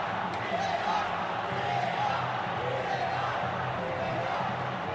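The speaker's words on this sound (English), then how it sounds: "Crowd all shouting VAR, VAR." Stadium crowd at a football match roaring and chanting together for a VAR check, a dense, steady wall of voices heard continuously at a distance, with a commentator-like voice faintly mixed in.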